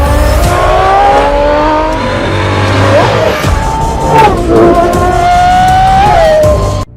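A hypercar with a 6.5-liter naturally aspirated Cosworth V12 revs loudly, the engine note climbing and dropping through several sharp rises and falls, close and dominant for the whole stretch.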